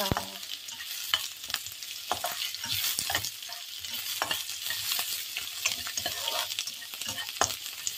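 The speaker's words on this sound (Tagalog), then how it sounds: "magluluto po tayo ng tortang ampalaya" Bitter gourd omelette (tortang ampalaya) fries in a pan with a constant bright sizzle, punctuated by scattered clicks and scrapes of stirring, close and moderately loud with no talking.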